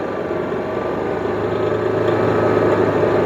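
A Powerhorse 7500i inverter generator runs at a steady drone, its low engine hum constant and fairly loud throughout with no voices.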